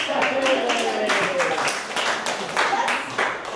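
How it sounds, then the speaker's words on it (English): A group in a movement workshop claps hands in rough unison, several sharp claps spread across a few seconds with voices talking over and between them. "Clap. Clap. Clap."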